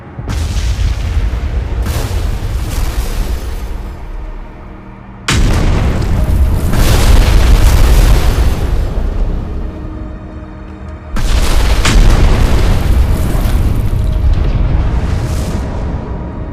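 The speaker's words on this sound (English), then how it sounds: "This young planet collided with Earth with the speed of 16 kilometers per second." A young planet colliding with Earth at 16 kilometres per second is rendered as a deep, rumbling impact boom, with three loud roaring surges, each swelling abruptly and slowly fading away.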